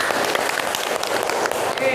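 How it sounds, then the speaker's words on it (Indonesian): A classroom of students applauds together at the end of a group discussion, a dense and steady patter of clapping at moderate volume. "Tepuk tangan untuk kita semua."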